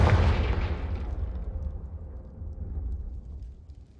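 Confringo explosion spell cast in Hogwarts Legacy, a loud booming blast with a crackling burst that decays into a low rumbling tail over several seconds, no voices.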